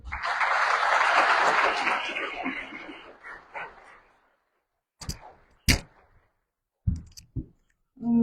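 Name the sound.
audience applause welcoming a speaker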